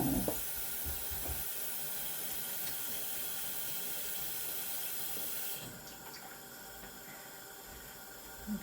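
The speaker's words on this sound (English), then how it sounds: "You can see the steam already starting to come up, so I don't like that. I can hear it popping." Water heating in a dye pot for dyeing BFL and kid mohair roving gives off a steady close hiss of steam and bubbling, with faint popping, continuous throughout and softening slightly toward the end.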